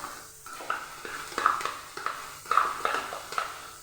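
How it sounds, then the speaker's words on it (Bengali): Mustard paste (shorshe bata) goes into a pan of fried spice paste for an elephant-foot yam and tomato curry, with a spoon clinking and scraping against the metal pan in a quick, uneven series of close, moderately soft taps. "এবার দিয়ে দেবো সর্ষে বাটা।"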